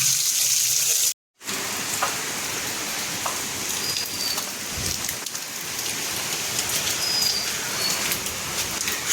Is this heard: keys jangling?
no